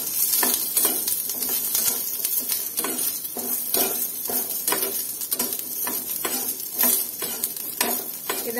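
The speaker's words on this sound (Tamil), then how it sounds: "பூண்டை லேசா வதக்கிக்கலாம் இதுக்கு அதிகமா எண்ணெய் தேவையில்லை" Twenty garlic cloves sautéing in a little oil over moderate heat, a steady close sizzle broken by frequent scraping stir strokes and light utensil clinks, with no voices.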